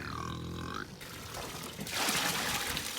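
Water poured into a pig feed mixture in a farm setting, a steady rushing pour that grows louder toward the end, following a short stretch of low grunt-like sound.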